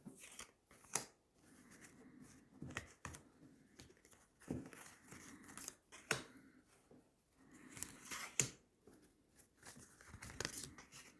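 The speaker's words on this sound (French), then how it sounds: "Allez, on va tirer 9 cartes." Tarot cards are shuffled and drawn in a quiet room: soft irregular riffles, slaps and papery flicks come close up in scattered bursts, with faint pauses between them.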